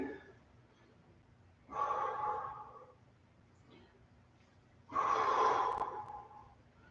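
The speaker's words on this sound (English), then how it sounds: "Inhale 4, exhale 8." During a floor stretch in a body-weight workout, two deep, audible breaths come several seconds apart, each a rushing, breathy exhale between quiet pauses.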